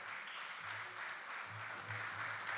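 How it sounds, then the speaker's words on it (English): At a youth peace panel event, an audience claps to welcome the panelists, a soft, even spread of applause heard at some distance, steady from start to finish with a low hum beneath. "let's welcome our panelists with a round of applause"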